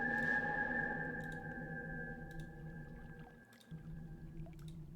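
A whistling rock in Myst 3 Exile gives a sustained, airy, pure tone that holds steady for several seconds, with faint gurgles and clicks around it in a quiet game setting.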